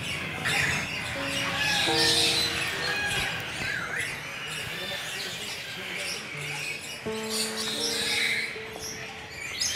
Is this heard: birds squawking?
yes